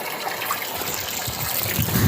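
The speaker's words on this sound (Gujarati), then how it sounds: "અત્યારે આવતું હતું પાણી એટલે પાણી ચાલુ કર્યું છે" Water from a household tap runs steadily at close range in a home kitchen, a continuous splashing trickle with no voices.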